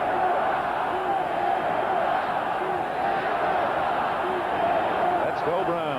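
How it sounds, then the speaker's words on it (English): A football stadium crowd at a Cleveland Browns home game against the Steelers chants and roars steadily in the background, while a commentator talks over the continuous crowd noise. "the crowd chanting for Cleveland"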